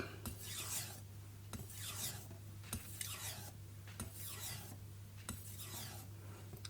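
A knife is drawn in full-length strokes across a Naniwa 8000 grit Kitayama whetstone, giving repeated close, smooth rasping swipes about once a second over a low steady hum, with no talk.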